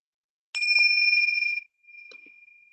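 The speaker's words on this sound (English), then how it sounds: "I'll ring you out with the chimes when it's time" Meditation chimes ring out in two clear, bright strikes, the first sustaining for about a second before fading, followed by a softer, quieter second ring, all alone in an otherwise silent room.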